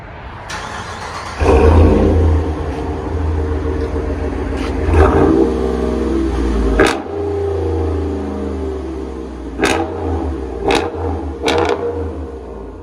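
RAM 1500 pickup with a 5.7L Hemi V8 and a Dynomax Race Bullet exhaust, heard from inside the cab, revving in several bursts with deep rumbling swells and sharp blips near the end.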